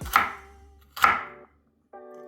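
Two sharp knife strikes chop through carrots on a cutting board during home cooking for chao mian, each a crisp thud with a short ringing decay, followed by a brief faint tonal clatter.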